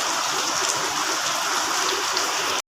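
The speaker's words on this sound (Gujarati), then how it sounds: "વરસાદ આવી ગયો રાજકોટમાં" Rain falls steadily in Rajkot as a dense, even hiss that holds at the same level throughout and then cuts off abruptly at the end.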